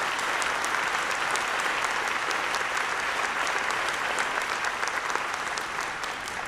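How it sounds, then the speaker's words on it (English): Audience applause at a university Founders Day address, sustained, dense clapping from a large crowd, even and unbroken throughout, heard alone without talk. "Give us a big round of applause for being on that list."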